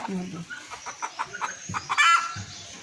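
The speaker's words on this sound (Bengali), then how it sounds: "মুরগি বলে এখানে আসতেছে" A chicken clucks in short, repeated bursts close by, with a sharper squawk near the end; a person talks faintly in the background.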